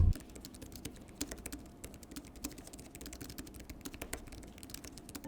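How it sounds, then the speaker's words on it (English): Soft, quick typing on the compact keyboard case of a Xiaomi Pad 6 tablet, a steady patter of light key clicks heard close and alone. "The key travel is okay, and this is what it sounds like."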